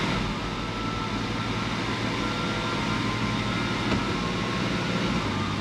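A Nissan GU Patrol's engine holds a loud, steady, low rumble from inside the vehicle in second gear, with no clear rise in pitch and no talk.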